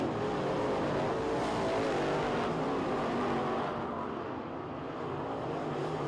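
Race cars lap a dirt track in a steady, distant roar of engines that swells and fades a little, with no talk.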